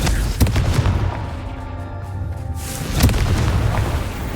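Confringo spell blasts in the video game Hogwarts Legacy, two booming explosive impacts spaced a few seconds apart over a rumbling background, fairly loud and with no talk.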